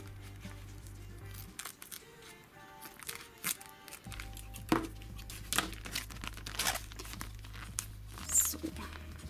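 Duct tape being pressed down and cut off while making a bag from a Ziploc pouch, heard as close crinkling and tearing rustles with sharp snips over a low steady hum.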